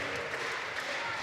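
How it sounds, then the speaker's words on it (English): Wrestling fans clapping at an independent Thanksgiving main event, steady dense applause from the crowd filling a brief moment without a break. "Fans here clapping."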